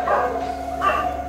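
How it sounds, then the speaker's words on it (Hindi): Dogs bark loudly at night, two yelping bursts with a short gap between them, fairly close, over a faint steady background hum and no speech. "कुत्ते बहुत जोर जोर से भौंक रहे हैं"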